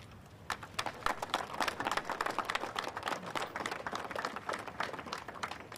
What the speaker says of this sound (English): Everyone here, one more time, please give yourselves a round of applause.